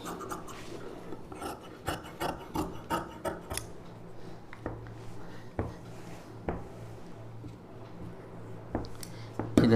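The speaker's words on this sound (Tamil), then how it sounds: "இந்த அளவுக்கு அப்படியே கட் பண்ணி எடுத்துருங்க. கீழே வந்து இந்த ஷேப் அப்படியே கட் பண்ணிக்கலாம்." Scissors snip and rasp through saree fabric being cut into a frock, with irregular close cuts and scraping against the cutting surface.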